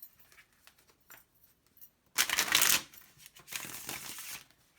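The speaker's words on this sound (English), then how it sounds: "One last shuffle, please." Tarot cards are shuffled at close range: a few light taps and slides, then two loud riffling bursts of rapid card flutter, with no voices heard.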